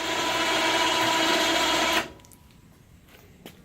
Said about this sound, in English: put in a weatherproof switch in the dash so that I can lift the blower up and down right from here